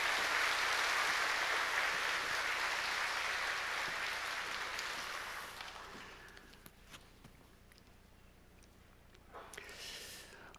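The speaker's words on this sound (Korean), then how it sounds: "마음을 담아서 박수로 모시겠습니다" A church congregation at Sunday worship applauds to welcome a guest preacher, a dense, loud wash of clapping that holds for about five seconds, then fades to a quieter hall with scattered small sounds.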